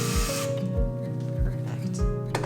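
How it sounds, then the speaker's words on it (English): A power drill driving a screw into a wall in a soap-making studio, whirring steadily with a few short, regular bursts under a close, busy mix. "we'll use the drill."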